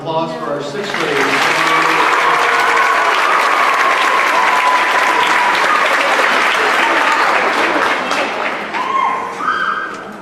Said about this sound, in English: One last round of applause for our 6th graders